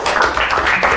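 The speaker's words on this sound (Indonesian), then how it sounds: "Ya, tepuk tangan." A group of classroom students claps briefly after a correct math answer, a short burst of close, fairly loud, uneven hand claps.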